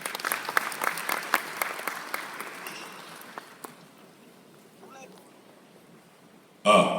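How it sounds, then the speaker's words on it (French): Applause from the audience at an official decoration award ceremony, loud scattered claps at first that thin out and fade over several seconds, followed by a brief voice at the end. "je vous demande de l'accueillir sous vos applaudissements"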